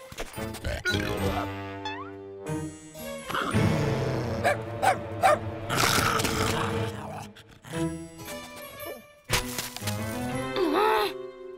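A cartoon dog gives a series of barks, yelps and whimpering whines in short varied bursts, mixed with other voiced animal-like noises and cartoon sound effects.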